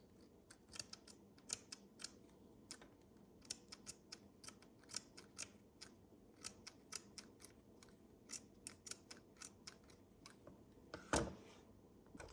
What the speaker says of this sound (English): first thing I'm gonna do is to cut my cheesecloth